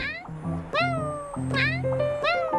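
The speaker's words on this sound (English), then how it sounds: "allows her to meow at a meowdest pace across land" Repeated cat meows from Kirara, a cat character in Genshin Impact, about four rising-and-falling mews in quick succession over a low steady game-music bed.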